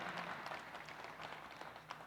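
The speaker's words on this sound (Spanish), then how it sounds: "Den un aplauso a la palabra del Señor" A church congregation applauding after a sermon on the word of the Lord, a steady, faint wash of clapping from many hands throughout.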